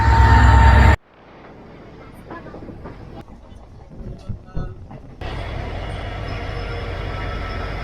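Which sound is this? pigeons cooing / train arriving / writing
train arriving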